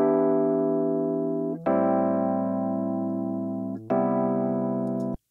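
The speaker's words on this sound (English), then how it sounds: "the Rhodes Dry sounds like this." Three sustained Rhodes electric piano chords, each held for about two seconds, warm and mellow with no reverb tail, played alone.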